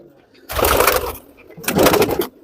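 Chandarkhani pigeons cooing in two loud, close bursts, each lasting under a second, separated by a short quiet gap.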